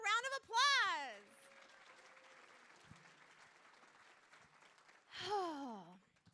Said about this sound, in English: Brandon, give him a round of applause.